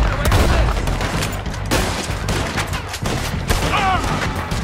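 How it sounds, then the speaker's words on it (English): Gunfire in the Red Dead Redemption 2 video game: several loud, close shots and bursts crack in quick irregular succession amid booming game noise, with some shouting or talk mixed in. "Oh shit, I'm getting shot at."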